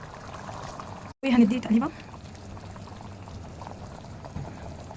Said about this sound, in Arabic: وهننزل بالمي